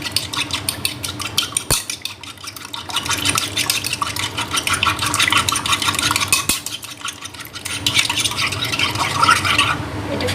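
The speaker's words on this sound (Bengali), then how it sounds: "আমি এখানে একটা বাটিতে একটা ডিম নিয়েছি আর সামান্য একটু লবণ নিয়েছি। এটা আমি সুন্দর করে একটু ফেটিয়ে নেব।" An egg with a little salt whisked briskly in a bowl, producing a fast, steady rattle and clink of utensil against the bowl's side that continues close up for about ten seconds.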